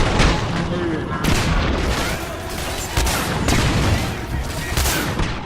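Seeker gun from the video game Singularity firing a rapid string of loud, booming shots over a dense, steady battle din, with a voice faintly underneath.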